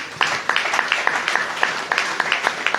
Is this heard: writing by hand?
no